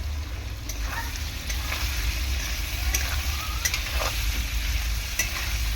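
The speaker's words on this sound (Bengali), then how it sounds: "আলুর সাথে সাথে চিংড়ি মাছটাও কিন্তু খুব সুন্দর ভাজাও হয়ে গেছে।" Potatoes and shrimp fry in a wok, giving a steady, close sizzle broken by occasional scrapes and clinks as they are stirred, with no talking.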